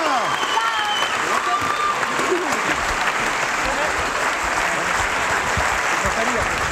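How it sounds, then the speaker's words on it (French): Steady, dense applause from an audience, broad and sustained throughout, with faint voices mixed in beneath the clapping. "applaudissements"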